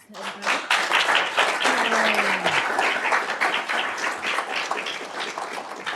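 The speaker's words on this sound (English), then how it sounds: "I'd like to a big round of applause." Conference audience applauding the speakers at the close of a venture debt and secondary markets session, a dense, sustained wash of clapping that starts abruptly and holds steady before thinning slightly, with voices mixed in.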